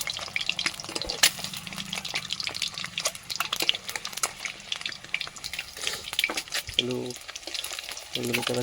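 Eggs fry in a pan and are turned over, a close crackling sizzle with scattered spatula clicks and scrapes, a few faint voices or tonal noises near the end.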